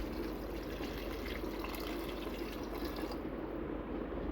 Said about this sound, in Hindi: गोश्त की मिकदार के अकॉर्डिंग पानी शामिल कर दिया है